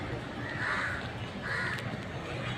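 Crows cawing near a tree outdoors, two hoarse caws spaced about a second apart, fairly faint against a low background rumble.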